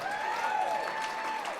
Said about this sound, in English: how about a big round of applause for our Master of Ceremonies